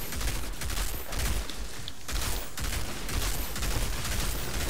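A tactical rifle fires in the Outriders shooter, a rapid string of close, punchy shots layered over game noise, with short pauses between bursts.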